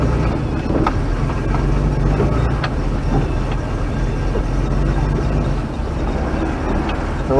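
An MGC GT drives slowly onto a trailer, its engine a steady, loud, low drone mixed with road and cabin rumble, with no break across the whole stretch.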